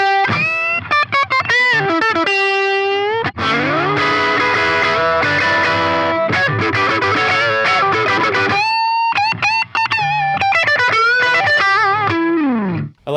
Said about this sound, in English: let's go to more of a front pickup sound and see what that sounds like with a little bit of single notes.